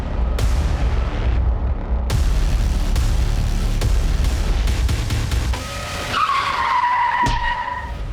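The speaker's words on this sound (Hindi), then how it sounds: "सर, जमील का एक्सीडेंट हो गया, उस पे किसी ने गाड़ी चढ़ा दी है।" A car skids hard during a road accident in a crime drama scene, with loud, close tyre screeches over a roaring engine, sharp impact-like cracks, and a long squeal near the end.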